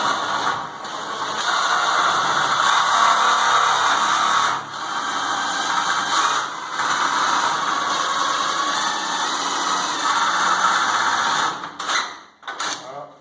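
A drill drives screws into a metal rail while plasterboard is fitted around a window: a steady whirring motor runs for long stretches with brief pauses, then short stop-start bursts at the end.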